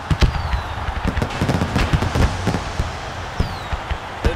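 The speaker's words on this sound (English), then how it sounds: "And why not have some fireworks in the air?" Fireworks burst in a rapid crackling barrage over the opening of the NHL 16 Winter Classic ice hockey video game in Pittsburgh, dense popping and banging bursts going on steadily for several seconds with no talk.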